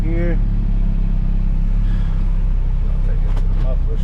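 A car engine runs steadily at a muffler shop, a loud, constant low rumble that holds the whole time, with a voice briefly heard over it near the start and a few faint clinks toward the end.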